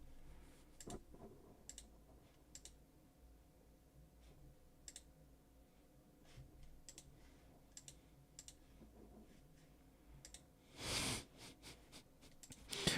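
Computer mouse clicking in quiet intervals, sparse faint single clicks spread across the stretch, with a louder burst of handling noise near the end.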